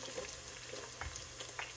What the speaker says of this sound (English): I'm gonna let this garlic fry up a little bit.